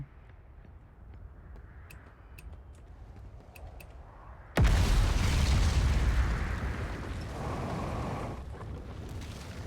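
A sudden loud blast in the Outer Wilds space exploration game, with a sharp onset halfway through and a sustained roaring rumble afterward. Quieter ambient hum and faint ticks come before it.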